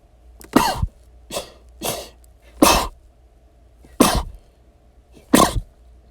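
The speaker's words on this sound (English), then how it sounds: "Oh, that sneeze too." Six explosive sneeze- and cough-like bursts come from a person, irregularly spaced over several seconds, loud and close against a quiet background hum, with no talking between them.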